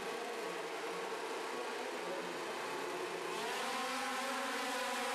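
Flat track quad racing machines accelerate off the start, a dense roaring engine drone with rising, overlapping revs as several engines climb in pitch together, loud and sustained throughout.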